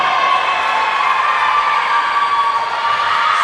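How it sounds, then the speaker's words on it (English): At a girls' varsity swimming meet in an indoor pool, a crowd cheers and shouts continuously, a loud, steady wash of voices echoing through the hall. "you can really hear the cheering going on here"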